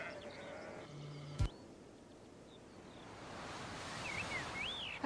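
Sheep graze in an Irish national park, with faint bleats carrying over open outdoor ambience and a few bird calls.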